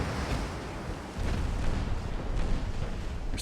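Naval guns fire high-explosive shells in the naval warfare game Ultimate Admiral: Dreadnoughts, a continuous dense rumble of booming salvos layered over one another, loud and unbroken throughout.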